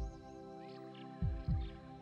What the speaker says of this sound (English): Yes, I feel their heart beating more strongly now.